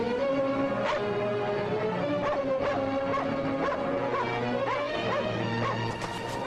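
A dog barks and whimpers in short repeated yelps amid a dense, continuous din of music and clatter from a 1940 classic film soundtrack, the calls moderately close but partly masked.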